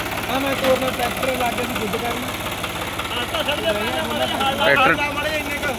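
A tractor engine chugs steadily with a low, knocking rumble, voices mingling in the background throughout.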